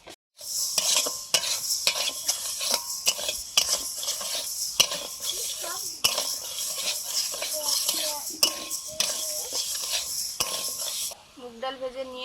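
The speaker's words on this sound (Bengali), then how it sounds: "মুগ ডালটা ভেজে নিচ্ছি।" Mung dal being dry-roasted in a dry pan, with a spatula stirring and scraping continuously and sharp metallic clinks against the pan, a soft sizzle beneath. The noise is close and steady before stopping abruptly near the end.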